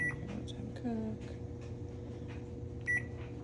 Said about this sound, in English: We're gonna pop this in the microwave.